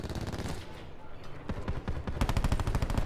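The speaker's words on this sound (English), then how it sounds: "Why is them shots so close?" Rapid automatic gunfire in Call of Duty: Black Ops 4, dense bursts of shots rattling close by, easing briefly then returning louder and faster toward the end.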